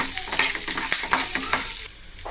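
Curry leaves and turmeric fry in a pan while being stirred, rhythmic spoon scrapes and taps over a steady crackling sizzle, close and moderately loud, no speech.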